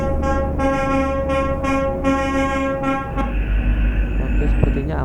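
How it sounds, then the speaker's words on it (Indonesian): A truck horn in Euro Truck Simulator 2 honks in a rapid series of short, loud blasts for about three seconds, then gives way to steady engine and road rumble. "Jadi kita antisipasi dengan cara klakson dulu teman-teman."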